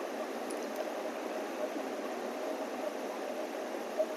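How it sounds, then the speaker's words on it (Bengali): Taro leaves cook in a pan with a little oil and spices, giving a steady, soft sizzling hiss with a faint bubbling texture, close and even throughout, with no voices. "এইভাবে নেড়ে নেড়ে কচু শাক রান্না করতে হবে"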